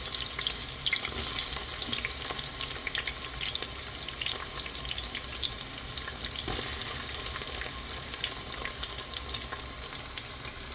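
Meat and onions frying in oil in a pot for couscous, a dense, steady crackling sizzle with light stirring, heard up close and alone without any talk.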